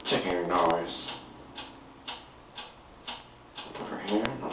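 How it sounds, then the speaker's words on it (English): A mysterious ticking sounds in a regular, evenly spaced tick-tock pattern, about one tick per half second. A louder, busier burst of other sound opens and closes the stretch. "What is that mysterious ticking noise?"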